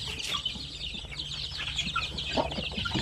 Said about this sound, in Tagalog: Marami pa tayong sisiw ngayon.